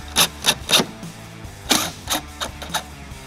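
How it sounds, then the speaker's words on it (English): Ten-millimeter bolts are driven back in on a 2021 Toyota Sienna receiver hitch, heard as a series of sharp, close mechanical bursts, three quick ones, a pause, then several more at a steady pace. "Now we're going to reinstall these 10 millimeter bolts."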